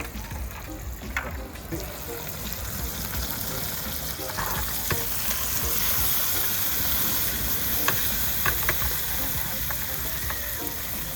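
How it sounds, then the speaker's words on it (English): Fish and okra frying in a pan outdoors, a steady close sizzle and hiss with occasional pops and stirring clicks, with people talking faintly in the background. "So we've got our fish in our pan right now."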